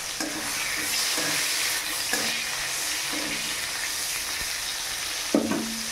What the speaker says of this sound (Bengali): তেলের মধ্যে টমেটো দিয়েছি।